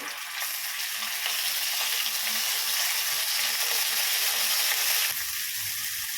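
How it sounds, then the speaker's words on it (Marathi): Cumin, ginger-garlic paste and green chillies fry in hot oil with a loud, steady sizzle and crackle that runs evenly, easing slightly near the end. "तेल गरम झाले की आपण घेऊया एक चमचा जिरे आलं लसणाची पेस्ट एक चमचा आणि आपल्याला दोन तीन मिरच्या घालायच्या आहेत"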